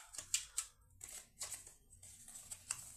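A deck of cards being shuffled by hand, giving soft papery riffling bursts and brief snaps that come in irregular clusters at close range, fairly quiet, with no talking.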